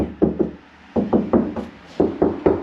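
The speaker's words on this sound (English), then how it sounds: "knocking on stuff" Knuckle knocks on car body metal coated with Lizard Skin sound insulation, dull, damped raps in quick clusters of two or three, close and fairly loud with short pauses between groups.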